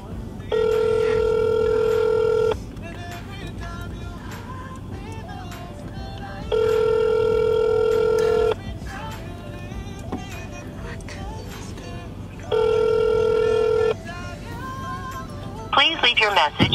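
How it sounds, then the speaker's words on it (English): Outgoing telephone ringback tone heard three times, each burst about two seconds long with roughly four-second gaps, loud and steady over a quiet background hum, with a brief rustle near the end. "Someone answer their phone."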